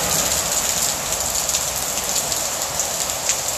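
Steady rain pours down in Merida, Mexico, a dense, even hiss of drops hitting surfaces, close and continuous with no voices.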